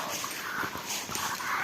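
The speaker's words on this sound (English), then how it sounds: "Slow down, guys. They're good. My dogs are good." Dogs whimper indoors with soft, high, whiny sounds in short repeated bursts, fairly close and steady, mixed into a hissy room background with no clear talk.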